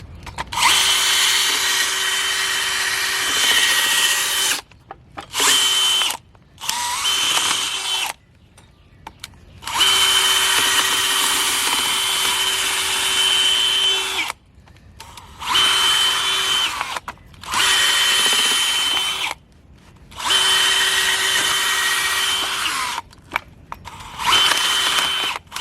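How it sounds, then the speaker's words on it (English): A power drill with a drill bit bores out a car sub-frame bushing ahead of fitting Energy Suspension polyurethane bushings, running in loud, close, sustained whining bursts several seconds long with short pauses between them. "So I'm gonna go through it with the drill bit first."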